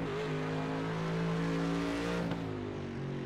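A Mercedes GT3 race car in iRacing at the Red Bull Ring, its engine revving high with rising and falling pitch through gear changes, loud and close, with faint tire noise and no talk.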